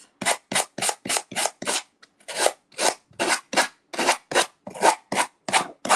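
Rhythmic rasping strokes of a sander on a paper edge, about fifteen quick back-and-forth scrapes with a short pause partway, close and crisp with no voices.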